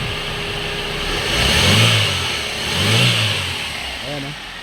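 A Toyota Corolla with a 2E engine rises and falls through two strong revs, then drops back to a steady idle. The engine sounds close and alone, with no talking over it.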